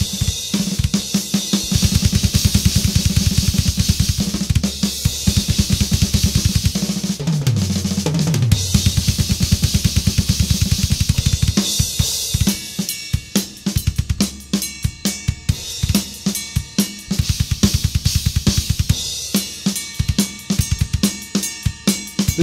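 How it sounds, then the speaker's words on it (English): Studio drum kit with gaffer-taped toms and EQ cutting around 1 kHz, played in a steady groove with punchy kicks, tom fills and bright cymbals, loud and close throughout with no talking. "Then with a little EQ, taking out some 1K, the kit should sound like this."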